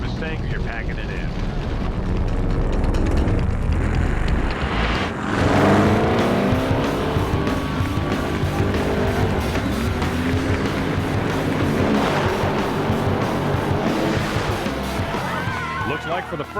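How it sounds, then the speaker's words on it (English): Race cars roar down a drag strip in a sustained, loud engine blast that swells and fades, with a commentator's voice running underneath. "Two pretty good race cars right here."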